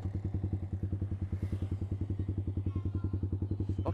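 A Yamaha R15V2 motorcycle fitted with a Proliner exhaust idles close up, its engine thumping out a fast, steady, even pulse with a deep throaty rumble throughout.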